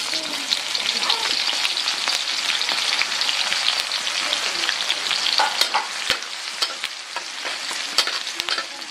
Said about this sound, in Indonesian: Tumis parenya aku memakai bawang putih, cabai rawit oranye sama bawang merah.